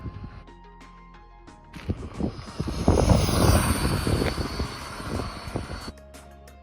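A Traxxas Rustler RC car with a Velineon motor and ESC on a 2S battery whines past on a shakedown run, the motor rising to a loud rushing buzz and then fading, heard outdoors with little else around.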